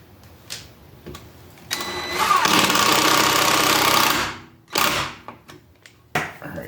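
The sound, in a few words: driving sheet metal screws into the scooter board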